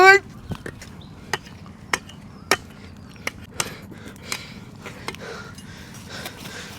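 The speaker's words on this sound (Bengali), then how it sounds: "আজকে গাছটা কাটতে চানু।" A tree being hacked with a machete-like dao, sharp wooden chops landing one at a time at uneven intervals, close and distinct over a quiet background.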